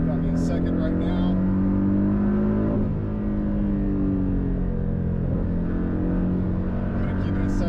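A Porsche 718 Cayman S engine drones loudly and steadily from inside the car on a race track, pitch climbing and dipping through gear changes, with a driver talking over it.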